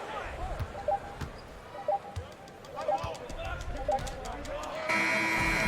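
A final buzzer sounds in the basketball video game NBA 2K21, a loud sustained tone cutting in at the end after a stretch of crowd noise, sneaker squeaks and bouncing balls under commentary.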